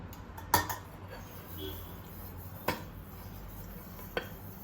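Three metal cooking pots of different sizes get handled in a kitchen, producing three sharp, separate clinks over a quiet background hum.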